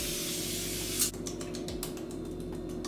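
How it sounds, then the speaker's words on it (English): A zinc face spray mists in one steady, close hiss lasting about a second, then cuts off, leaving a quiet room. "So I just spray this."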